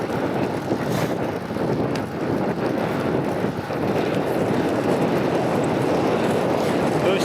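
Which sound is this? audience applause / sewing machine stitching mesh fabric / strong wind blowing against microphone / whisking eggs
strong wind blowing against microphone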